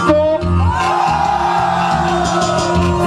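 A live audience at an outdoor street jam concert shouts and whoops loudly together, a sustained roar of voices over a steady backing beat for about three seconds.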